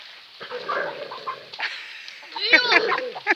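Chickens cluck and squawk nearby, with a burst of agitated calls toward the end, mixed with a person talking.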